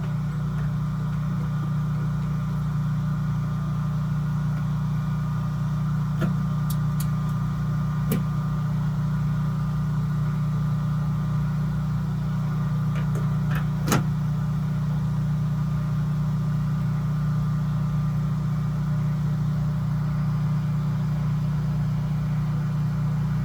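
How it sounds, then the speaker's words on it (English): A Generac home standby generator idling in cool-down mode, giving off a steady low engine hum with a constant drone, close by and unchanging, with a few faint clicks. "the generator will go into a cool down mode and just sit around waiting for the next outage"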